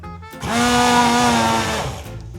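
An immersion blender whirs steadily in a home kitchen for about a second and a half, loud and close, with a rising start and a fading stop.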